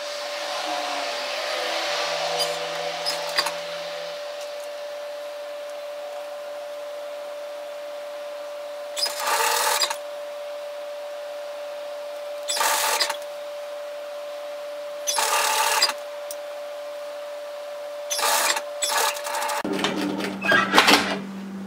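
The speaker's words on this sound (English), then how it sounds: "we're going to sew that into place with a 1 centimeter seam, gently stretching that to fit" A sewing machine runs a 1 cm seam on stretch fabric for a lounge top, heard as several short separate bursts of whirring stitching spaced through a quiet stretch, with a faint steady hum underneath.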